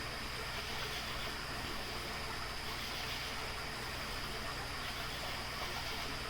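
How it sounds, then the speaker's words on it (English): A shallow creek about five feet wide and eight inches deep flows with a faint, steady, unbroken wash of water, distant and even throughout. "But the creek is one continuous, flowing sound."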